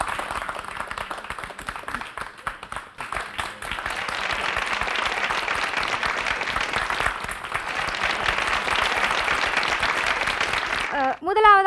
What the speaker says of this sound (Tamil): ஒரு அரங்கம் நிறைந்த கைத்தட்டலோட.